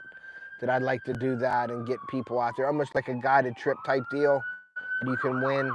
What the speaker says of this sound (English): We got an ambulance passing us here.